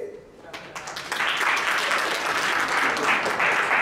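An audience at an event honoring Antonio Fargas breaks into loud, sustained applause that swells after a moment and holds steady, with crowd voices underneath.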